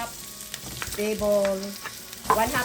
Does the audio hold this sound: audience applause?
no